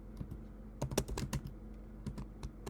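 Java code being typed on a computer keyboard: rapid clusters of sharp key clicks in short bursts, close up, with brief pauses between runs and no speech.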